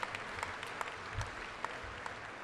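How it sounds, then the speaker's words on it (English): An audience claps for college faculty in a brief, steady burst of applause, moderately loud with scattered sharper claps standing out. "Let's give them a round of applause."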